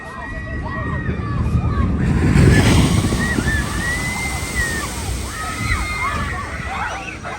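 Water from the Pulsar ride at a Belgian amusement park splashes over visitors standing in front of it, a broad surging wash that swells and fades under wind buffeting, with people shrieking and talking throughout.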